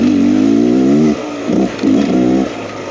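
A 2023 Beta X Trainer 300 enduro motorcycle chugs along a trail, its close, loud engine holding a low steady note, then dropping off and pulsing in short lugging bursts at low revs.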